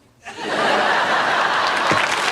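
Sitcom studio audience in a Friends wedding episode erupting into applause mixed with laughter, swelling quickly from quiet to a loud, sustained wall of clapping and cheering.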